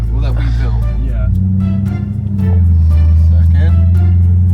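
Engine of a home-rebuilt car driving on back roads, a steady low rumble that drops in pitch then settles into a heavier drone, with people talking over it.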